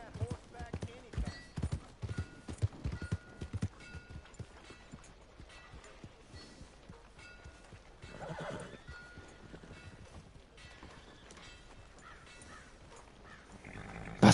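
Horse hooves clip-clop in Red Dead Redemption 2, irregular at first, then settling into a steady gait, with neighs and whinnies, a crow calling and mechanical clatter, all under intermittent game dialogue.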